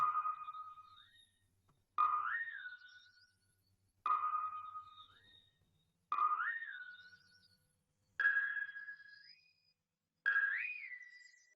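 Six evenly spaced synth bell notes repeat, each with a quick upward pitch slide and a decaying tail, clean and alone with no voices.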